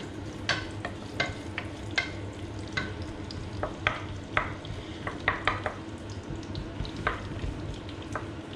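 Shallots and garlic sizzle in olive oil in a pan, a steady soft frying hiss broken by scattered stirring clicks and utensil taps, fairly quiet and close, with no talking.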